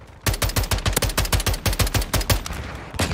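Rapid automatic gunfire from a Call of Duty match, loud and close, a dense burst of evenly spaced shots that slows and ends with a final shot.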